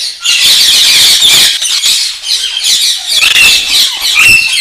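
Large parrots at a big bird nursery in Namangan squawk loudly and repeatedly, harsh overlapping calls filling the aviary close by with almost no pause.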